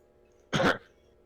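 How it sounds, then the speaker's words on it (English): A single short throaty cough, close and fairly loud, from a player during a game raid, standing alone against a low steady background hum. "Trick's inclusion to this raid was a cough."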